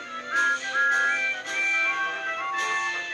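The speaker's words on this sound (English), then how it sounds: "All three engines blew their whistles, and the long and jolly train set off." Several steam engine whistles sound one after another, steady tones overlapping with a bright, sustained, slightly breathy quality.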